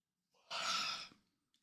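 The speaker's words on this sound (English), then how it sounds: "As I yawn." A single long yawn-like exhalation, close and fairly loud, swelling for about a second and then fading, with a faint breath at the end.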